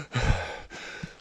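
A hiker breathes heavily after finishing a steep section on a night hike up a mountain, giving one long, close, audible exhale followed by a softer breath.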